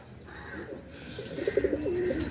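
Pigeons in a breeding loft give soft, throaty coos that repeat in a rolling rhythm, close and fairly quiet, over low background murmur and a few faint chirps.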